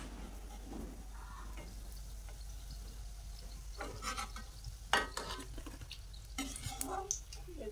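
Pitha cakes fry in a pan, giving a faint, steady sizzle. Soft stirring and scraping clatter interrupt it, with a few sharper knocks from utensils against the pan.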